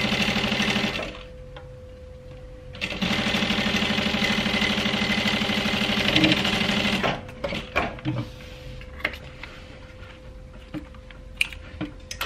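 A sewing machine top stitching a handbag runs in loud, close bursts of rapid motor-driven stitching, pausing briefly between runs, then gives way to scattered clicks and handling noises.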